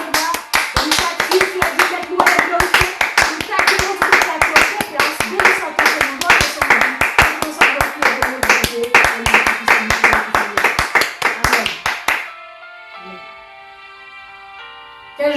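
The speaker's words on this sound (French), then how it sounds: "nous voulons l'accueillir avec vos applaudissements" A church congregation claps in steady, rhythmic unison during a worship broadcast, loud and sustained for about twelve seconds before the clapping stops and a held musical tone remains.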